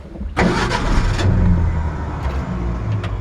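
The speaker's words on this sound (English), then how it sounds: "And that engine just purrs like a kitten." A 1965 Ford F100 step-side short-bed pickup with a 240 six-cylinder engine cranks briefly and fires up cold, then settles into a steady, close-miked idle with a few small revs.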